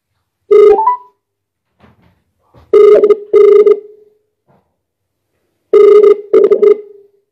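A telephone rings unanswered in repeated pairs of loud, clear electronic bursts with short gaps between them, standing alone with no voices.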